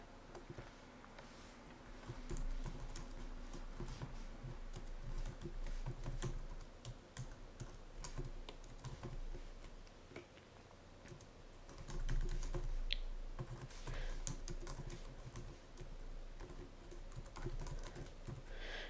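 Quiet, steady computer keyboard typing, a continuous run of soft clicking keystrokes with brief pauses, close and alone.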